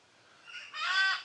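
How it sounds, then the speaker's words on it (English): A Highland guan gives a short, nasal, honking call that rises in strength and ends abruptly, clear and fairly close against quiet surroundings, with no voices. "This is the Highland guan, which has got a really pretty color to it."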